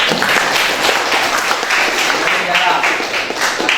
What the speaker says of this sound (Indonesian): Itu pertanyaan yang bagus, tepuk tangan dulu